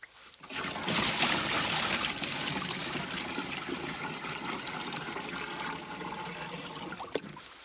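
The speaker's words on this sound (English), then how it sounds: "So any water that spills over goes there into the bathtub" Water spills over and splashes steadily into a bathtub in a garden, a continuous soft gushing with a faint trickle throughout.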